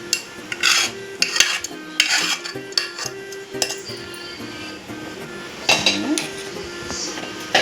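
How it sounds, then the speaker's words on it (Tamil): Cooked mappillai samba rice being stirred into jaggery syrup in a pot, with repeated scraping and clinking of a spoon against the metal pot in irregular bursts, close and moderately loud. "இந்த பாகில் நான் வேக வச்சுருந்த இந்த அரிசியை மிக்ஸ் பண்ணிக்கிறேன்."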